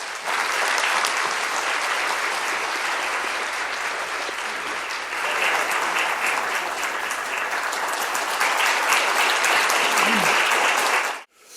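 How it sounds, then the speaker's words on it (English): A large audience at a Seoul security forum on Korea-Japan relations gives a long, loud round of applause welcoming a speaker, sustained and even for about eleven seconds before cutting off abruptly. "Please welcome Dr. Chung with a big round of applause."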